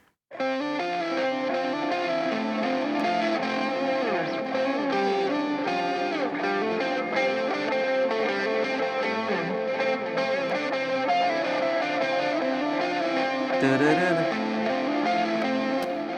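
A distorted electric guitar solo plays continuously, heavily washed in reverb so the notes blur and ring into each other.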